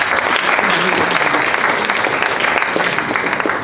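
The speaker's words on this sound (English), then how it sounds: "A round of applause." Dense, continuous applause fills a hall at a national moot court competition, loud and even from start to finish with no pauses.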